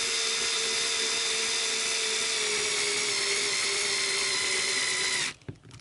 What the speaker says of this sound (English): Even though they're short screws, I'm still going to use the driver because it doesn't really make a difference whether it's in super tight or not.